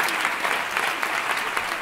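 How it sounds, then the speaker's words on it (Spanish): Applause for Paula swells from the audience at a performance, a fairly soft but continuous wash of many hands clapping together. "un aplauso para Paula"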